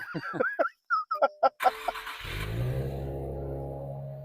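A few short chirpy electronic tones and clicks, then a 2023 Nissan Z Proto Spec engine cranks and catches, settling into a low steady idle.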